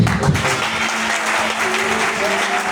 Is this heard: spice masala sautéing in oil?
no